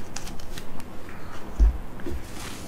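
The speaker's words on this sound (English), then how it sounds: "And we are picking more tarot cards" A deck of tarot cards shuffled by hand close up, a steady run of papery riffles and soft slaps with a heavier thump partway through, with no talking.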